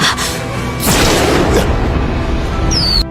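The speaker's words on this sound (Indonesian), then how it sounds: "Namun tiba-tiba Zhao Yao kembali menghilang menjadi kembang api." Film sound effect of fireworks bursting as a character vanishes: a loud booming burst with crackling and a rushing swell, ending in a high whistling sweep, with no talking.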